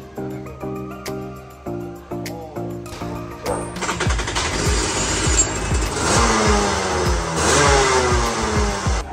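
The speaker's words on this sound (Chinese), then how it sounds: "老板说他要拿出他的比赛车，那他要下场跑一段给我们看看" A professional racing go-kart drives laps on an outdoor track at a karting park, its small engine buzzing and revving in repeated bursts that rise and fall, then building into a loud, continuous close pass.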